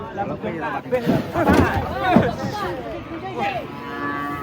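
A calf mooing at a cattle sale near a truck, several low drawn-out bellowing calls in close succession, with people chattering around it.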